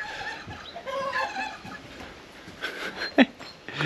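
A turkey grumbles and clucks in a rural village yard in Georgia, giving short low calls close by with a sharper call near the end, amid farmyard background.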